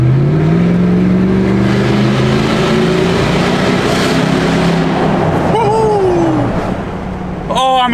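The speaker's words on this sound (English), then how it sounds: "Oh, I'm gonna get myself into trouble with this exhaust." Loud, droning roar of a Lexus GX470 with a straight-pipe exhaust echoing inside a road tunnel, a steady rumbling engine note sustained throughout, with a brief whooping shout near the end.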